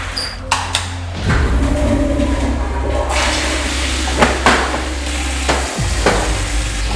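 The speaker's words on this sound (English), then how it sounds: "Flush the toilets." A toilet flushing indoors, a loud, steady rush of water running for several seconds, with a few knocks and clunks over it.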